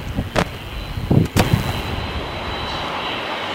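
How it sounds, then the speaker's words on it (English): Engines of a Boeing 747 at LAX airport make a steady, broad roar, with a few sharp knocks near the start before the drone settles in. "hear those booming engines of that 747"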